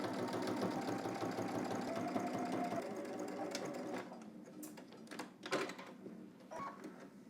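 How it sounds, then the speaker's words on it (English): A sewing machine stitching across a fabric seam, a rapid steady mechanical hum and chatter for several seconds, then it slows and stops, leaving a few faint clicks and handling noises. "now we're gonna head to the machine, just stitch across."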